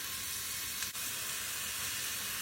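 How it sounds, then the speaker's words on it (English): Onions and celery sauté in a stick of unsalted butter, giving a steady, close, unbroken sizzle with one brief dip partway through. "Now I'm going to saute my onions and my celery."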